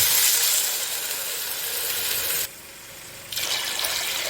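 Water pours into a cooking pot for Bukhari rice in a steady, rushing hiss that drops away briefly before the flow picks up again.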